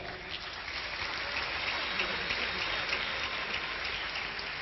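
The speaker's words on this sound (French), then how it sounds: "Je voudrais également qu'on puisse applaudir nos ministres, nos vaillants ministres et vice-ministres qui sont ici dans la salle" Hall audience at a political party gathering applauding ministers and vice-ministers, a steady, distant-sounding wash of dense clapping that holds at an even level without pause.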